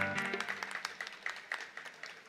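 Applause at a Tamil song debate event in Vaniyambadi, distinct claps landing in a loose quick rhythm while a sustained tone fades out at the start, moderately loud and without speech.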